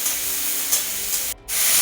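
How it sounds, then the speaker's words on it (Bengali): Chopped onion, green chili and panch phoron spices hitting hot oil in a Bengali kitchen, a loud steady hiss and sizzle that briefly cuts out near the end before resuming. "প্রথমে তেল গরম করে পাঁচফোড়ন লঙ্কা ও পেঁয়াজ কুচিগুলো দিয়ে দিল।"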